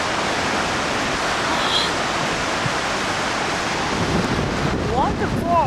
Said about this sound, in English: Okay, let's go see some waterfall.